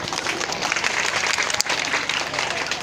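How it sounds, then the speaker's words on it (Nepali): Audience clapping at a magician's comedy show, a dense continuous burst of applause with a brief dip midway, crowd voices mixed in. "प्लिज एकचोटि लुतो नलागेको हातबाट ताली बजाइदिनुहोस्"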